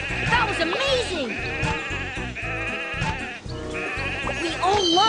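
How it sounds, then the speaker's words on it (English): Sheep in a toy train game bleating repeatedly in wavering cartoonish calls over bouncy game music, with a voice speaking at the same time. "Oh no! Sheep have wandered onto the tracks."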